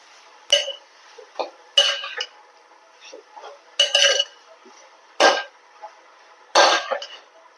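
Chicken biryani masala with tomato being stirred in a pan, a series of spaced scraping and clinking strokes of a utensil against metal, about seven distinct bursts with quiet gaps between.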